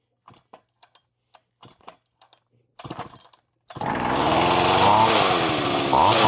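A Partner chainsaw being pulled over with a few short cranking rattles, then firing up into a loud, continuous running engine drone, close by.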